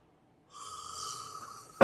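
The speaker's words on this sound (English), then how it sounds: "Oh, sorry, I'm yawning on you." A person yawns, a drawn-out breathy exhale with a slight tonal hum that swells and fades over about a second, ending in a sharp close noise, with no words spoken.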